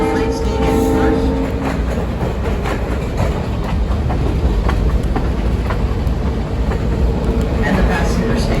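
A Steamtown excursion passenger train rolls loudly past the Moscow, Pennsylvania freight station, with steady rumbling wheels and rhythmic clickety-clack close by, and a faint tone early on.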